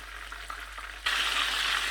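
Chicken cheese rolls frying in a pan over a low flame, a steady soft sizzle that grows louder and brighter halfway through, close and continuous with no talking.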